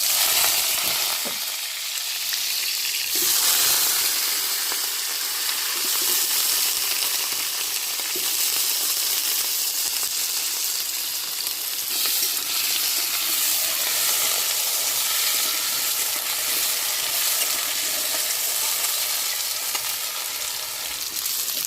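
Potatoes fry in a pan with green chilli, a loud, continuous close sizzle and hiss with occasional stirring scrapes and no talking.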